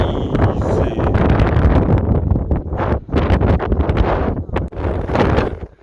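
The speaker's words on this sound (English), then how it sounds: "I just had to talk over because the wind is so crazy" Strong, cold wind roars and buffets the microphone continuously on a mountain trail between Carvers Gap and Doll Flats, a loud rushing noise with gusts that briefly dip and surge.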